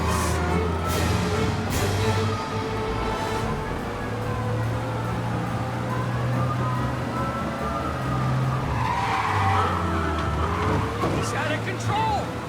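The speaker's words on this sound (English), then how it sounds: "We lose them by driving real fast and getting clear of them." Car in the video game Mafia Definitive Edition driving fast, a steady engine roar with tires squealing and skidding, loud and continuous, with game character voices talking over it.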